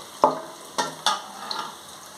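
Onions frying in a pan while preparing fried okra, with a steady low sizzle broken by a few sharp stirring clatters, close and fairly quiet, with no talk.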